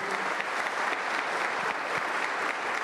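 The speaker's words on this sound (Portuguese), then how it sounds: "dê um aplauso bem forte para Jesus" Applause for Jesus from a church congregation during a Portuguese-language prayer service, a steady, dense wash of clapping held for about three seconds at an even level with no voices on top.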